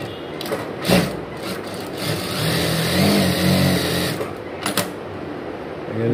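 Digital sewing machine stitching fabric, a steady mid-pitched motor whir running for several seconds with brief louder bursts near the start and end.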